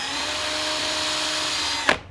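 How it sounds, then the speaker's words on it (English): A power drill whirs steadily at close range while turning a motorcycle carburetor part, then stops abruptly with a short clunk. "all I'm doing is using this drill"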